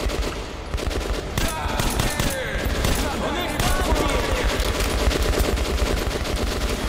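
Sustained, rapid machine gun fire in the video game Metro: Last Light, loud and continuous, with dense rattling bursts and a little echo throughout.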